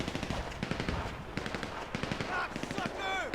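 Rapid automatic gunfire crackles throughout a GTA V zombie-survival firefight in a ruined city, dense overlapping bursts from several weapons at close range, with a voice talking underneath.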